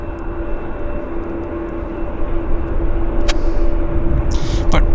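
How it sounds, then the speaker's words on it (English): CRJ jet taxiing at Vancouver airport produces a loud, steady engine roar and whine that swells slightly, with a few sharp clicks and bursts of radio static over it. "CRJ squeezing by."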